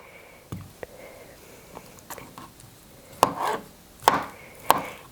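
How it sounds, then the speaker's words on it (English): Knife chopping potatoes into small pieces for a pesto potato salad, a handful of sharp, irregular thumps on a cutting board, sparse at first then several louder cuts close together, in a quiet room. "So I'm just going to chop a couple of these up just into little pieces"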